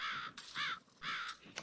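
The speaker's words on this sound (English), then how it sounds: "Oh, hey, crows." Crows cawing in the video game Hunt: Showdown: three harsh, rasping caws in quick succession, fairly loud and close, with no talking.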